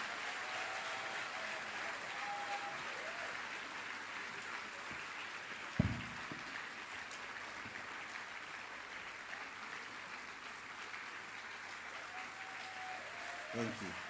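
Continuous applause from a forum audience rolls on at a fairly quiet, distant level, with a single louder thump partway through and a brief voice near the end.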